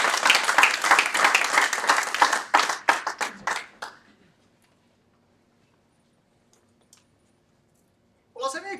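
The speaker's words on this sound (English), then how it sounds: "Give him a great round of applause." An audience at a REINZ real estate event claps for a speaker taking the stage. The applause is brisk and close, then thins into scattered claps and dies out after about four seconds. A stretch of near silence follows before a voice starts talking.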